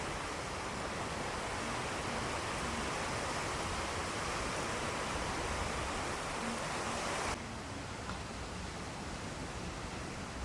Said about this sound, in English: this is water running on the road